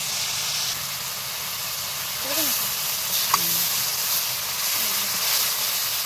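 Chicken meat simmering in water in a home kitchen pot, a steady soft hiss and steam-like bubbling throughout with faint clinks and brief murmurs of voice in the background.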